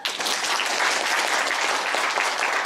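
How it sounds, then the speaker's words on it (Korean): A lecture audience bursts into steady, dense applause, many hands clapping at once, loud and sustained for the whole stretch with no pauses. "다 같이 박수!"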